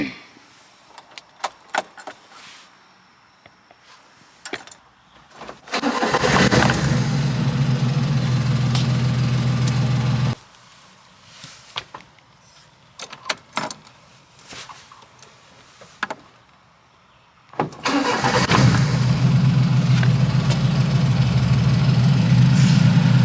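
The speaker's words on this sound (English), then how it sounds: "I'm going to show you how it starts up fluttering the gas pedal" A Kei truck's carbureted engine cranks and fires up twice while the gas pedal is fluttered, each start settling into a loud steady idle, separated by key jangles, clicks and quiet cab sounds.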